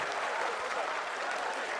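Sustained applause from a large audience at an ISRO event marking the Chandrayaan-3 lander's touchdown on the Moon, a dense, steady wash of clapping that fills the whole moment at an even level.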